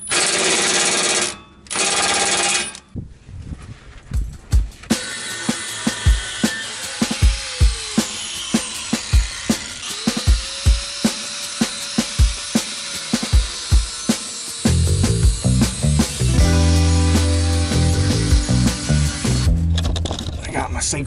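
A power tool cutting through a rusty exhaust under a Foxbody Mustang: harsh grinding with repeated sharp bursts and clanks, close and loud, and a heavier steady cutting roar near the end.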